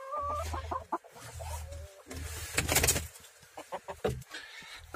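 Chickens cluck in a coop with newly bought hens, giving intermittent close clucks and short calls, with quiet gaps in between.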